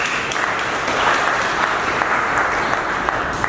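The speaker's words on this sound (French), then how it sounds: "je voulais qu'on applaudisse très fort nos parents." A crowd at an agricultural and biocultural festival in Kloto claps steadily for a few seconds, with dense even applause close by and no voices over it.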